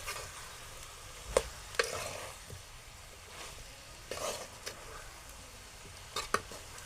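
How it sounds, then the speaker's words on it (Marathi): Bitter gourd pieces being stirred into an onion-tomato masala in a pan, with a few scattered scrapes and clinks of the spoon over a faint, steady sizzle; quiet and close, with no talking. "हे पहा, असं एकत्र करून घेऊया आपण कारलं"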